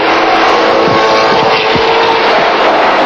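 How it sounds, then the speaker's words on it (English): Peter Williamson's Toyota race car on the 1979 Bathurst circuit, its engine droning loud and steady as it climbs through the gears toward the mountain, with pitch sweeps at each change. "Peter Williamson going through the gears on his approach to the run up the mountain"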